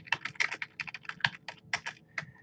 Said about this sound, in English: I want you to type in cause and effect